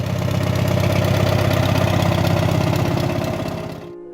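An old David Brown 2D tractor engine runs with a steady, loud, low chugging rumble and a rapid even beat, then fades and cuts off near the end.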